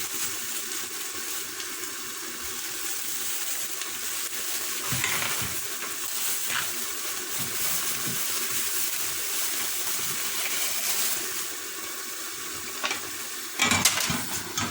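Chickpeas go into a pan of frying meat for a Turkish chickpea dish, giving a constant close sizzle with stirring scrapes and a few louder clatters near the end.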